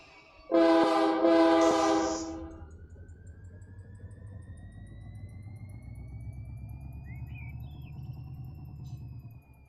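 In the Run 8 railroad simulator, a train horn blasts twice, loud and close, then a low rumble of the train rolling past a signal builds and holds, with faint whistling tones above.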